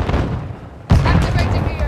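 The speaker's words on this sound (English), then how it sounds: "Grenade out!" A grenade goes off in Call of Duty: Modern Warfare II, a sudden loud, close boom that cuts through the din of battle. Gunfire rumbles around it and voices shout over the noise.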